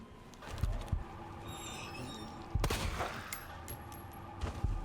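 Gunfire at an enemy in the video game Resident Evil 2, several sharp shots spaced across the stretch, with metallic clatter and a low ambient hum between them.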